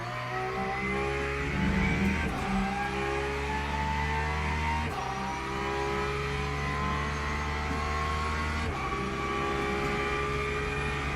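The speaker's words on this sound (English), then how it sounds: "Alright, Carol, faster car approaching." A race car engine drones loudly and steadily at Sebring on track, a pulsing mechanical roar with brief surges as another faster car closes in, no voices over it.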